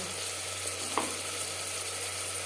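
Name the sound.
marinated mutton frying with onion and tomato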